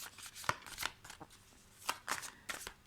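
A deck of cards is shuffled during a card reading, giving close, quiet riffling bursts in an irregular rhythm with brief pauses between them.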